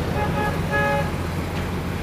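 Busy bus terminal at Tanjung Priok, Jakarta, in the daytime: a steady roar of traffic and idling engines, with a short horn toot, alone and loud throughout.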